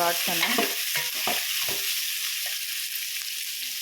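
Onions, garlic and ginger fry in a pan with a loud, even sizzle, and a few stirring scrapes and knocks sound in the first two seconds.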